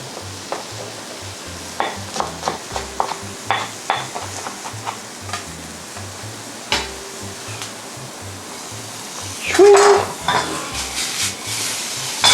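Ginger and shiitake mushrooms stir-fried in a pan: a steady close sizzle under rhythmic scraping and tapping strokes of a utensil against the pan, with a louder clatter near the end and no voices.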